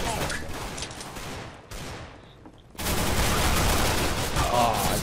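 Gunfire in Counter-Strike: Global Offensive, dense bursts of shots with a brief lull before a loud sustained volley, close and harsh.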